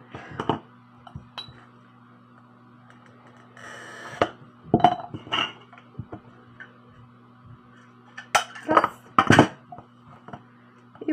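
Sharp glassy clinks and scraping clicks in scattered bursts, close up, as colored glass strips are scored and snapped into pieces for a fused-glass bracelet, with quiet pauses between.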